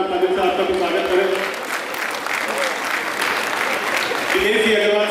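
Loud, dense applause from an audience welcoming a guest at an Agrawal community award ceremony, a steady wash of clapping that swells in the middle, with a voice speaking over it at the start and end.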